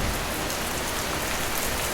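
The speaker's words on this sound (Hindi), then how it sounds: "और जोर जोर से बारिश शुरू हो जाती है।" Heavy rain in an animated story pours down as a dense, loud, unbroken hiss of drops striking surfaces, with no voices.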